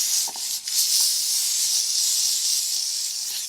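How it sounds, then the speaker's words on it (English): Steady, loud hiss of a steam cleaner working over parts of a Yamaha RZ 350 motorcycle, a continuous spray with slight surges and brief dips, close and without speech. "The trick is you got to steam it and then wipe it right away before it even cools off."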